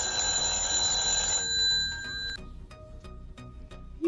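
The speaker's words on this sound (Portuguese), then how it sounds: "O despertador já é longo" An alarm clock rings with a bright, continuous electronic tone for about two seconds, then stops, leaving a quiet ticking beat.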